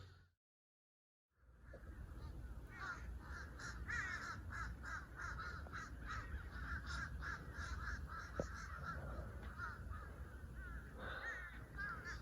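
Several crows cawing repeatedly outdoors, harsh calls overlapping at moderate distance over a steady background hum.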